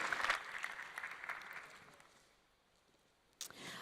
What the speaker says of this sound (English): I think next time you can do better with your applause, though.